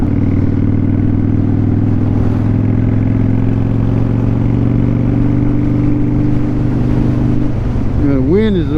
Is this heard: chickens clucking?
no